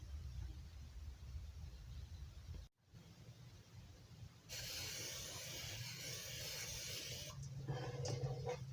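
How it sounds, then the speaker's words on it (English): A steady hiss of aerosol cooking spray coating round cake pans runs for a few seconds, following quieter background rustling. "I'm going to spray them and line the bottom"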